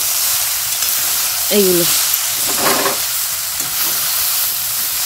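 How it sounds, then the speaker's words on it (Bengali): Beetroot, carrot and radish fry together in a pan, a steady broad sizzle running throughout, with brief words spoken over it midway. "এই যে একটু বিট গাজর মূলো সব একসঙ্গে ভাজা হচ্ছে"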